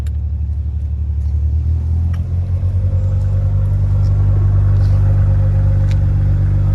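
A 2021 Audi RS5's loud, deep engine rumbles close by in RS2 sport mode, its tone rising as it revs up and holds a throaty idle.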